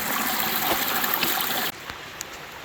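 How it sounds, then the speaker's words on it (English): Running water in a small creek drainage along a wooded Ozark trail, a steady close rushing trickle that cuts off abruptly partway through, leaving faint background sound. "You can hear the water"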